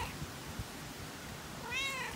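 A cat gives a short, clear meow near the end, after a stretch of faint low rustling and background noise, alone without speech.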